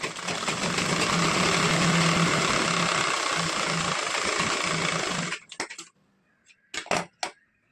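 A sewing machine runs steadily on blouse fabric for about five seconds with a close, even mechanical hum, then stops, leaving a few faint clicks and handling noises.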